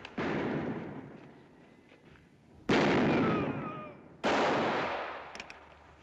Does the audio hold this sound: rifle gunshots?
yes